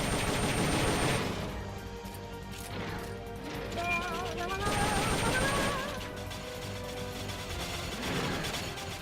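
Gunfire and mechanical clatter from Metal Gear Solid Peace Walker, with shots aimed at a machine's AI pod, come as repeated bursts and crashing impacts layered over game effects, loud and dense throughout.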